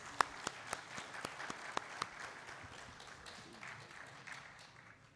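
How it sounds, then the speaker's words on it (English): An indoor audience at a financial talk claps for a speaker, Mr. P V Subramanyam, starting with a few sharp individual claps and swelling into a brief, moderate round of applause that fades away. "A big round of applause for him."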